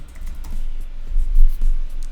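Typing on a computer keyboard, a soft run of key taps with no voice over it.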